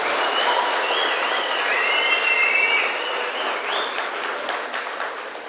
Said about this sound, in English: please give yourselves a warm round of applause for the phenomenal work that you've done this week